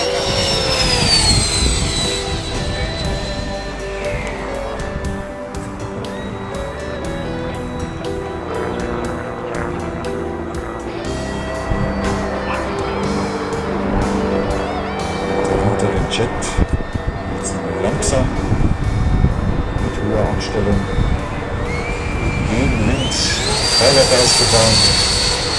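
A Dassault Mirage III RS model jet with an electric ducted-fan impeller roars through a high-speed pass at an airshow in Salzburg, a loud sustained whine that swells toward the end while a commentator talks over it.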